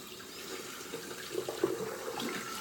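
Running water from a tap rinsing shaving soap lather off, a soft continuous trickle and splash with small gurgling bursts, fairly faint and close.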